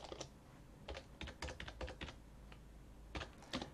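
Rapid, uneven clatter of fingers typing on a computer keyboard while editing a hosts file during a Linux installation, close and fairly quiet, in short bursts with brief pauses.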